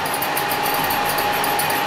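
Milling machine running steadily, a constant mechanical hum with a high whine, close and unbroken for the whole short stretch, with no voices.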